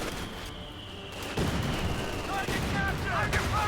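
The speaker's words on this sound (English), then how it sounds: "Mortars are hitting this house" Mortar rounds strike a house in the Company of Heroes 2 game amid gunfire, with sharp explosive thumps and crackling impacts over continuous battle noise.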